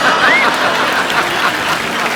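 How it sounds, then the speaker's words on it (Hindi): Studio audience applause on a Hindi comedy talk show set, a dense, steady wash of clapping held close and loud for about two seconds with a brief faint whistle near the start. "अच्छा, तालियां"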